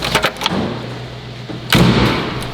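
A Mercedes G-Wagon door swings shut with a solid, heavy thud near the end, after some lighter clicks and handling noises; no talking.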